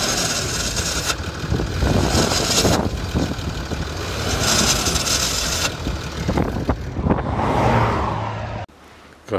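A 2006 Land Rover Discovery 3 engine with a suspected turbo fault runs loud and close, its steady drone rising in rough surges as the throttle is blipped, then dropping abruptly near the end.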